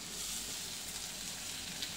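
Sprouted moth beans (matki) hit hot oil for a potato and drumstick bhaji, giving a steady, soft, even sizzle that holds unbroken for a couple of seconds with no voices.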